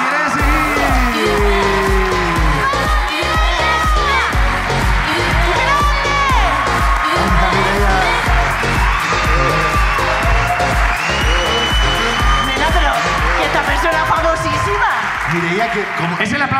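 Wild applause and cheering from a live podcast audience at La Ruina, loud and dense throughout, with whoops and shouts rising over steady clapping and voices calling out across the room.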